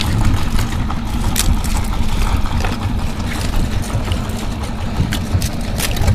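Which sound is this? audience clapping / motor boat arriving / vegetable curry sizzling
motor boat arriving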